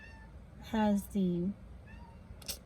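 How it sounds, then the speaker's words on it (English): A domestic cat meows twice in quick succession, loud and close, while trying to get out through a window indoors; a brief voice is heard faintly before the calls. "It's my cat."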